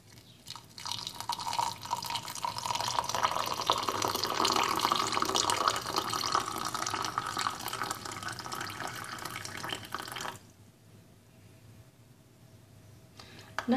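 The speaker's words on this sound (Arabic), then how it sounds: "ثم نضيف الماء الساخن" Hot water poured into a cooking mixture, a steady splashing, trickling flow that runs for about ten seconds before stopping abruptly, leaving a quiet tail.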